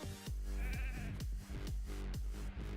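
A sheep from a Polymorph spell in a video game bleats repeatedly, loud and close, with several wavering cries in a row over continuous game background sound.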